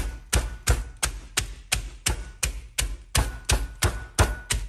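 Food being crushed inside a small plastic bag with a hard object: about a dozen firm, evenly spaced thuds in a steady rhythm, close and fairly loud, with no talking.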